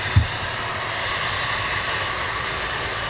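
An Ilyushin IL-76 cargo jet flies downwind at about 7,000 feet near Manchester International Airport, a steady, broad engine roar heard from a distance with no break, plus a brief low thump at the start.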